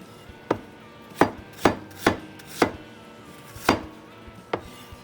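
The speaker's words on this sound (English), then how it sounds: "start chopping this up" Knife chopping red onion on a board for crispy pork sisig, about seven separate sharp chops with uneven gaps between them, close and fairly loud, no talking.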